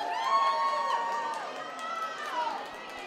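A crowd at a school awards show red carpet, with lively overlapping chatter, children's excited shouts and cheers forming a continuous hubbub at moderate distance.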